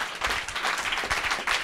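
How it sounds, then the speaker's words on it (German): Studio audience at a German talk show breaks into sustained, dense applause, loud and close, with steady clapping throughout and a brief surge near the end. "ich finde, das ist ein mega Applaus wert"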